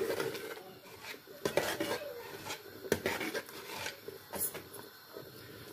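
A utensil mashes cooked chana dal in a pot on the stove, making irregular clinks, scrapes and soft knocks against the metal, with no talking.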